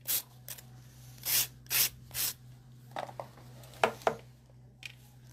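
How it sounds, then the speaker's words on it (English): A 150 grit file works a fingernail in short, soft rasping strokes, a few quick rubs spaced apart with brief pauses, close and fairly quiet over a low steady hum. "So now I'm going to use a 150 grit file to further define the perimeter of the nail."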